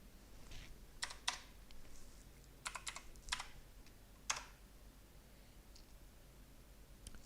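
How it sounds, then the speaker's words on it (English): Keys on a computer keyboard are tapped in short, scattered bursts of a few crisp clicks separated by quiet gaps, faint and close with no voices. "So we're gonna type in Ren."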